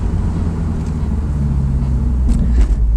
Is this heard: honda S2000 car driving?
yes